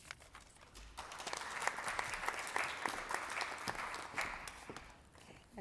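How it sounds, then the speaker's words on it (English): An audience at a nursing school graduation ceremony applauds a group of graduates, with a dense, moderately distant clapping that swells, holds steady and then fades out. "Let's give that group another round of applause."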